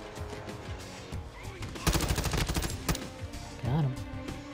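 Gunfire in Call of Duty: Modern Warfare II, a rapid automatic burst of sharp shots in the middle, with scattered single reports before and after amid game noise.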